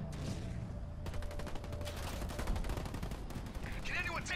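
Rapid gunfire bursts and distant artillery booms from the Halo Wars 2 campaign on Xbox One, a dense continuous barrage with a faint voice near the end.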